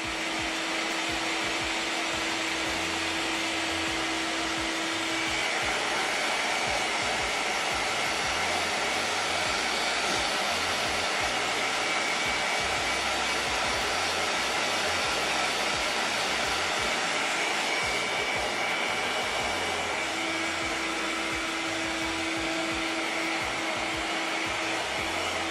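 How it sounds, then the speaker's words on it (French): A hair dryer blows steadily on a freshly painted ABS body for a Cross RC EMO XT4 car, a continuous loud airy whir that holds for about twenty-five seconds with no talking. "Et alors on repasse bien sûr avec de nouveau le sèche-cheveux."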